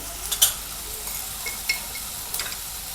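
Tomatoes with a pinch of turmeric sauté in a pan, a faint steady sizzle with a few sharp clinks of a spoon stirring against the metal, no voices.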